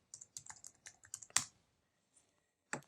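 Keyboard typing the command "exploit" in a quick run of close, crisp clicks, then one louder keystroke, a pause and a final tap, likely Enter.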